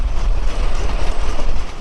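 A local train hauled by a Hyundai Rotem locomotive runs at good speed through winter fog in Lalmonirhat, giving a loud, steady rumble and rattle of rolling wagons with no voices.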